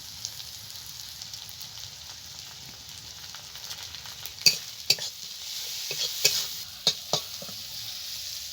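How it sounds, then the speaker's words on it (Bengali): Onions and green chillies frying in a pan on a new stove, a soft continuous sizzle broken by several sharp scrapes and clinks of a spatula stirring against the pan in the second half. "পেঁয়াজ আর লঙ্কা ভালো করে ভেজে নিয়েছি"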